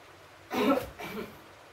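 A child coughs twice in quick succession after choking at the dinner table, close and fairly loud, with a short burst then a softer second cough and no talk.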